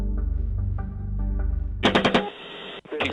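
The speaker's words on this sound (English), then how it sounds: "Keep shooting. Keep shooting." A machine gun fires a long burst of rapid, evenly spaced shots, loud and close, then several sharper cracks ring out before the firing cuts off.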